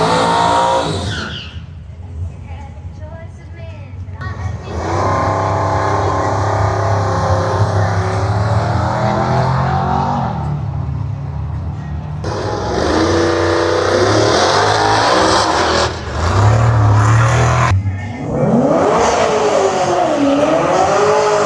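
Street machine drag cars roar down a drag strip at a drag challenge event, loud revving engines rising and falling over repeated runs, with tire squeal and gear changes heard from trackside.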